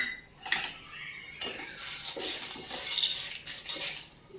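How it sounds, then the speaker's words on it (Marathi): Roasted chickpeas (phutane) tumbling into a pan of puffed-rice chivda, giving a run of light rattling, clinking dry clatter that rises and falls across the clip with no talk. "आणि त्यामध्ये टाकते फुटाणे"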